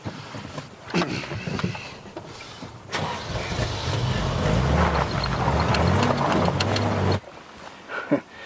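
A car engine turns over and starts after a few knocks and movements, then runs with a steady low rumble for several seconds before cutting off, close by with no talk.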